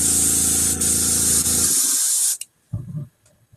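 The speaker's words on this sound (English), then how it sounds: "Need to adjust my spray pattern here." An airbrush-style paint spray gun hisses steadily for about two seconds, then cuts off, leaving a few faint handling noises.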